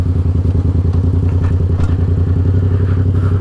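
A 2015 Yamaha MT-07 with a straight-pipe exhaust rumbles very loud and close, a rapid, even, pulsing low-pitched exhaust beat with crackly overtones that holds steady throughout, no voices.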